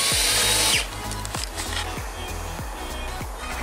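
Power drill whirring in repeated bursts with a drill bit, close and loud, during work on a winter greenhouse foundation slab; a high-pitched run at the start gives way to several short revving pulses.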